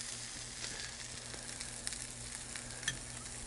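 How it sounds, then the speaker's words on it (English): Steady, close sizzling of asparagus frying in a hot cast iron pan, a continuous hiss with scattered small pops and crackles. "we got some sizzling asparagus right out of some cast iron over here"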